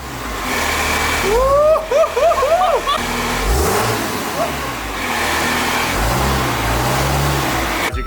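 A compound-turbo Cummins truck engine rumbles and revs in bursts, loud and close, with a low droning idle between pulls and people talking over it.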